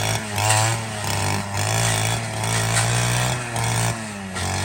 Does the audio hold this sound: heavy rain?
no